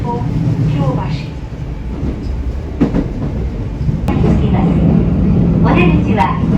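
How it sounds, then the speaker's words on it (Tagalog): Osaka Loop Line train running toward Kyobashi, a steady rumbling ride with low rail and wheel noise throughout and occasional faint clacks, with voices talking over it. "This is the Osaka Loop Line train bound for Kyobashi."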